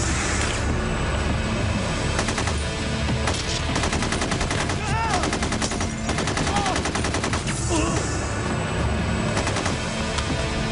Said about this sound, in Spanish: Disparando y parece no sentir efecto el fuego.